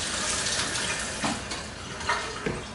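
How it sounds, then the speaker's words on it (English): Collard greens rinsed under a running kitchen tap while fingers rub the leaves, a steady close splashing hiss broken by a few brief watery slaps. "rinse this off while I'm rubbing it with my fingers"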